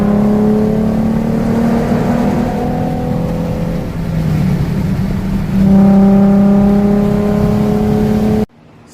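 A Nissan Z34 driving on the road, its engine a loud steady drone that rises and falls through shifts in pitch, heard from inside the car before cutting off abruptly.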